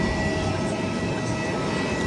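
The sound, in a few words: airplane passing, president's flight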